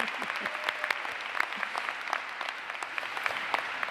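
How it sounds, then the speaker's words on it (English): Sustained applause from a commencement audience honoring the College of Saint Benedict class of 2018 graduates, a dense, steady wash of many clapping hands with no pauses. "We applaud you."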